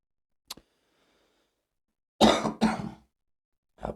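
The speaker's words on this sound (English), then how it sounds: "cannot shake this bloody cough" A man coughs hoarsely twice in quick succession, close and fairly loud, after a faint tick, with a brief trailing start of another cough at the end.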